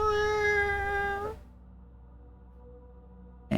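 An eerie, drawn-out cat meow sound effect wails loudly for over a second, then cuts off into quiet low ambience.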